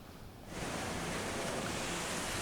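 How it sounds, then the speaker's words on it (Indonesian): Roaring surf of high sea waves, about three metres tall, crashing onto a coastal fishing settlement in Sidomulyo, Tuban, East Java, a dense continuous wash of noise that swells up after a brief quieter moment. "Ombak setinggi 3 meter terus menerjang pemukiman nelayan di Kelurahan Sidomulyo, Tuban, Jawa Timur pagi tadi."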